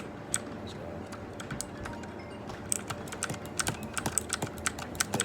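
Bursts of typing on a clicky blue-switch mechanical keyboard, sharp close-up clicks coming irregularly at first, then quickening into a dense run of keystrokes toward the end.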